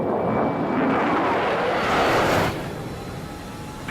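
A military jet roars loudly and steadily during takeoff at Nellis, with a broad rushing engine noise that peaks and then drops back to a lower sustained rumble as the aircraft moves away.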